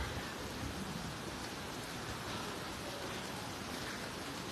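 Heavy rain pouring in Nan province, Thailand: a faint, steady wash of rainfall noise that holds evenly throughout with no talking.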